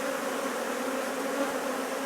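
Honey bees swarm over a Smith hive frame with capped brood ready to hatch, a dense, steady, close buzzing drone that holds evenly throughout.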